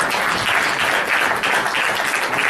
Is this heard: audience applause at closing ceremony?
yes